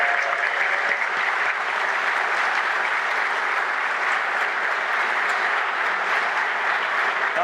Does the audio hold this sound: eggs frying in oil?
no